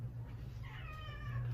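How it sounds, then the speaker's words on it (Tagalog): A cat meows during the cooking of coconut-milk tilapia with eggplant and pechay, its short harmonic cry rising midway through over a steady low kitchen hum, fairly close but not loud. "May pusa, hingi ng pusa."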